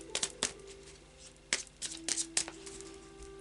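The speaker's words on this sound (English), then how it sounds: "I'll just do a final shuffle now of the Oracle of Visions" A deck of Oracle of Visions cards shuffled by hand in a quiet room, several sharp riffles and slaps in uneven bursts with pauses between.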